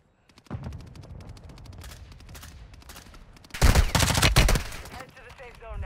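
Rapid video-game gunfire from Warzone 2 on Ashika Island crackles in quick bursts, building to a loud, dense volley near the end, with a player's voice briefly heard over it.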